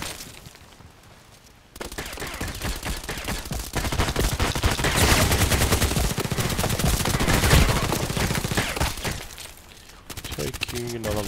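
Gunfire in the Contract Wars shooter game, dense rapid bursts of automatic fire that run nearly continuously, loud and close, with a quieter stretch at the start and end; voices talk over parts of it.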